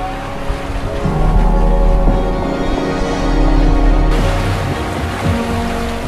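Loud, continuous rush of ocean waves washing against a sailboat hull on a Caribbean passage, with wind noise and a low steady hum underneath.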